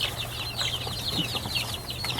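Bantam chicks clucking in quick, high, chirpy bursts, close by, with a soft rustle like brief wing flapping and no talk.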